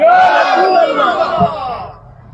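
A crowd at a Sylheti Islamic waz sermon gathering roars a loud chanted response to a takbir call, a dense wall of many voices that swells and then fades over about two seconds.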